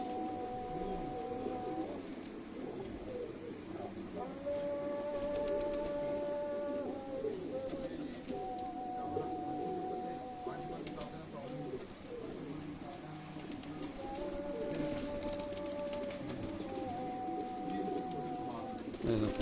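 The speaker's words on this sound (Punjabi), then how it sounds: "ਕਿਹੜੀ ਨਸਲ ਦੇ ਨੇ 10 ਟੈਡੀ ਕਬੂਤਰ ਨੇ ਜੀ" Teddy pigeons coo in repeated soft, drawn-out calls, close by, with a voice talking over them part of the time.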